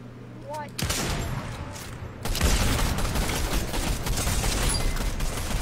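Rapid gunfire bursts from a Fortnite match, loud and continuous after a brief quiet opening, with a heavy volley kicking in around the middle and persisting to the end; players talk over the shooting.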